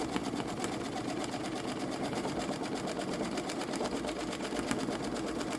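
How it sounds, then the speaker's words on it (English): A Babylock Solaris Vision embroidery sewing machine stitches steadily, a close, continuous mechanical hum with a fast regular needle rhythm and no pauses. "I could actually speed up the sewing a little bit more too"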